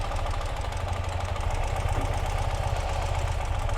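A 2018 Ural Gear Up sidecar motorcycle in Cascade Green idles close by, its engine giving a steady, low, rhythmic chug with no talk over it.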